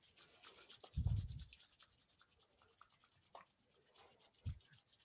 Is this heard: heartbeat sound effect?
no